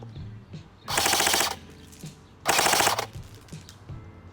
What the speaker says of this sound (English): let's hear this thing rip in full auto